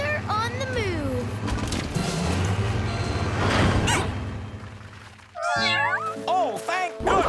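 Cartoon cats meow in a rising, wavering run at the start and again in a clear, closer burst near the end, with busy background music and sound effects in between.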